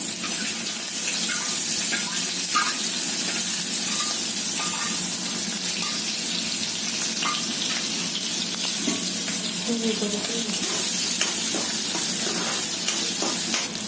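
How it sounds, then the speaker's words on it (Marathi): Loud, dense hissing sizzle of cumin seeds and chillies hitting hot oil, steady throughout with scattered crackles and a few light clinks. "तेल तापला आता मी जिरे घालते याच्यात मिरची घालते"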